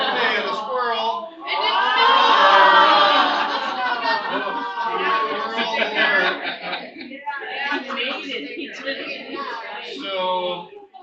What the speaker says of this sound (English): you can hear the oohs and ahs in the crowd here because this squirrel just did an acrobatic feat